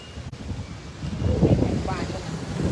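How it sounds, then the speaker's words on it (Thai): Strong stormy wind blows outdoors along a dusty road in Bangkok, rumbling and buffeting the microphone in rising gusts, with someone talking at the same time. "นี่คือแค่ลมพัดนะ เนี่ยโหพายุเข้านะเนี่ย"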